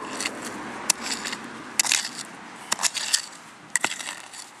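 Digging into stony mountain soil with a metal detector nearby, each stroke giving a sharp crunch and scrape of stones, about five irregular strikes over a low background hiss.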